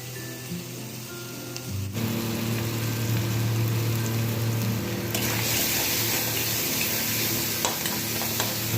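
Chopped vegetables and other ingredients for Maggi masala noodles sizzle loudly in a hot pan while being stirred, a dense continuous frying hiss that swells partway through as more ingredients go in, with no talking.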